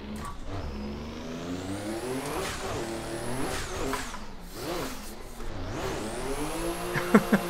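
A car in Assetto Corsa, running a Link ECU, revs hard through a drift entry, engine whining up and dropping in repeated sweeps with gear changes, ending in a few sharp tire chirps, loud and close.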